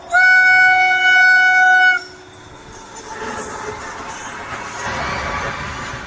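A train on a railway line sounds a loud sustained horn for about two seconds, then a steady rumbling rush of wheels on track follows as it passes nearby.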